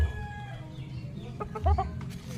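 A Boston Sweater gamecock rooster gives a short burst of loud, close clucks. The clucks come as a quick broken cluster partway through, with farmyard background noise around them and no talking.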